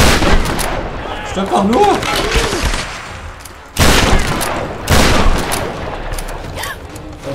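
Shotgun gunfire in the Tomb Raider video game, loud booming blasts with heavy rumbling tails, several shots spread over several seconds, and a voice speaking over the action.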